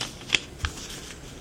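A sheet of paper is creased and folded by hand into a paper airplane, giving a couple of short crisp rustles and snaps close by over quiet.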